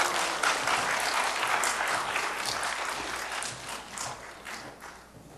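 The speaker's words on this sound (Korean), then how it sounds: "박수로 여러분" A church congregation applauds as a guest pastor comes forward to preach, dense clapping that gradually fades and thins out toward the end.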